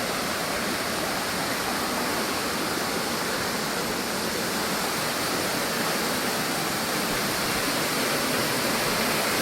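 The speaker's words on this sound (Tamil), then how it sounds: "ஃபைனலாக வந்து பார்த்தீங்கன்னா வாட்டர் ஃபால்ஸுக்கு வந்துட்டோம்" Odugathur waterfall roars as a dense, continuous rush of falling water, loud and close, with no voices heard over the steady broadband wash.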